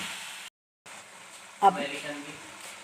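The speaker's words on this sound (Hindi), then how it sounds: "फ्राई करेंगे अदरक लहसुन को भी और चिकन को भी 2 से 3 मिनट फ्राई करेंगे" Ginger, garlic and chicken fry in a karahi for quail karahi: a steady soft sizzle with a brief gap, then a sharper burst of hissing and spattering as food hits the hot oil, close, under light talk.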